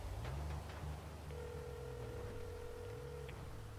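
Outgoing phone call in GTA V NoPixel roleplay, a steady electronic ringback tone repeating over low game ambience, clear and fairly close.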